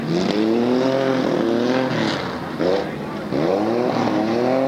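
Racing vehicles in a mud bog at Lake Odessa, Michigan roar past with high-pitched engines shifting and revving, several machines close together, under a commentator's voice.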